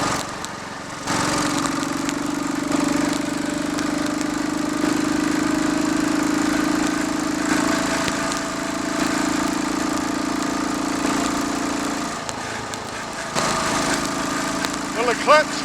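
Royal Enfield Bullet 500 single-cylinder motorcycle with Watsonian 500T setup running steadily on the road, a continuous low engine drone that drops out briefly near the end and returns, with occasional wind noise.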